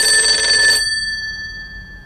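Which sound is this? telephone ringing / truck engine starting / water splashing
telephone ringing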